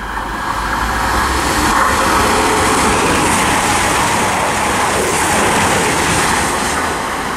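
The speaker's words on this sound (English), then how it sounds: "I'm about to pass through. It's an East Midlands train service to Sheffield from London St Pancras." An East Midlands Trains service from London St Pancras to Sheffield roars through Harlington station on the Midland Main Line, a loud, steady rushing rumble from close by that barely changes for the whole pass.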